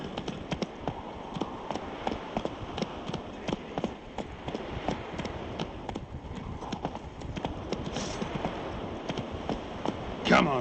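Roach the horse trots along in The Witcher 3, a steady rapid clip-clop of hooves close by and continuous throughout, with a voice speaking briefly over the hoofbeats.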